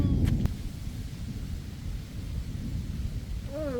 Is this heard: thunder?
yes